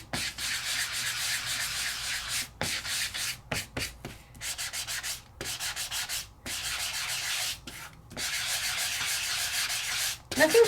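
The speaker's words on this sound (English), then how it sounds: "just do a light sanding on the edge." Close, dry rubbing strokes of light sanding on a paper craft edge come in short bursts separated by brief pauses, some strokes quick and choppy, others longer and smoother.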